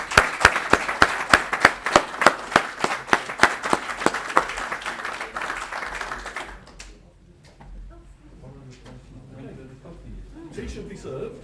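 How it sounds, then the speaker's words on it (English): An audience at the end of a Stop Snoring Week presentation gives a round of applause: sharp, rhythmic clapping, loud and close, that stops after about six seconds, leaving quiet room murmur and faint voices. "a round of applause for everybody involved would be a good thing"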